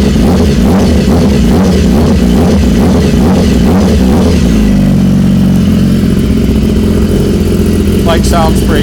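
An Aprilia Tuono motorcycle engine runs loudly up close, pulsing through throttle blips before settling into a rough steady idle, with a voice speaking over it.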